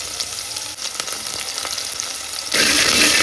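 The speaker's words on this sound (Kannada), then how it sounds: "ಇವಾಗ ಎಣ್ಣೆ ಕಾದಿದೆ, ಈರುಳ್ಳಿ ಹಾಕ್ತಾ ಇದ್ದೀನಿ." Onions dropped into hot oil in a home kitchen while making egg sambar: a steady close crackling sizzle that jumps abruptly louder and brighter near the end as the onions hit the oil, with no talking.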